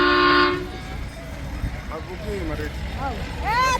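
A toy train at Hyderabad's Nehru Zoo ends a loud horn blast in the first half-second. Excited voices and a child's high squeals follow.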